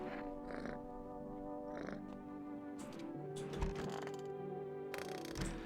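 A cat in the game No I Am Not A Human meows and purrs, tonal mewing calls with soft purring and clicking game noises under and between them.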